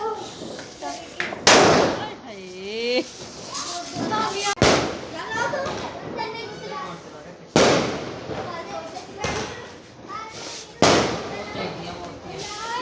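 Firecrackers set off outdoors on a windy night during Guru Nanak Dev Ji's birth anniversary celebrations, several sharp loud bangs spaced seconds apart, with children and adults talking and calling between the blasts.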